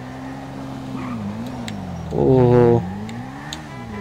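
A 2020 Honda CBR1000RR-R Fireblade SP motorcycle in GTA 5 gives a brief, loud revving surge of acceleration over a steady engine drone, while someone talks over it.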